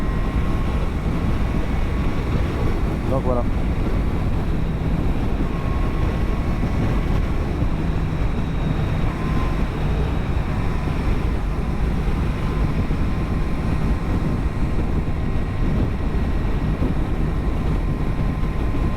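Wind buffets a motorcycle riding at 120 km/h on a coastal road on Réunion, a loud, constant roar with engine drone beneath, and a brief remark from the rider.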